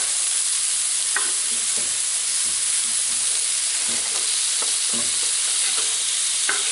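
Vegetables for ratatouille, including button-up pumpkin, frying in a pan while being stirred: a steady loud sizzle with scattered scraping and clacking stir strokes, no talking.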